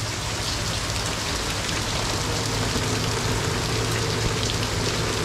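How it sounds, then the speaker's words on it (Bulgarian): Heavy rain pours down outside in a dense, unbroken hiss of drops, loud and steady from start to finish with no voices over it. "Ела да виж как силно вали."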